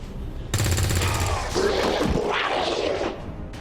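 Gunfire from a shot at a trooper in the XCOM turn-based tactics game: a sharp rapid burst of automatic shots, loud and close, followed by a brief rumbling tail and game effects.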